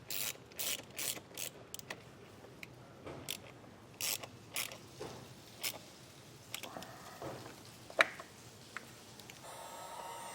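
A ratchet tightening a fastener while a vehicle wiring harness is installed, a string of quick clicking bursts in irregular groups, close and fairly quiet, with no talking.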